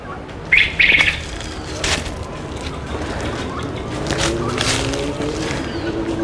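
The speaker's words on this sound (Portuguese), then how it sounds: "Vamos entrar aqui e mostrar os pássaros, as aves." Birds call and flap inside the aviary of a municipal bird park in Apucarana, Brazil, where quail are kept. A few bright chirps and wing flutters stand out early over a busy outdoor background.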